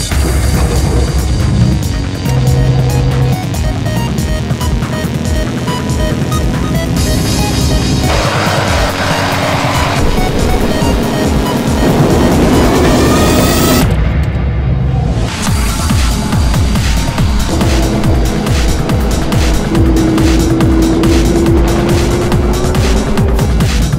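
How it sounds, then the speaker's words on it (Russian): A T-72B tank with a 12-cylinder V engine of 840 hp drives and maneuvers, its loud engine roaring and changing pitch amid clanking, grinding and crashing impacts, with a brief sharp break partway through. "12-цилиндровый V-образный двигатель. 840 лошадиных сил."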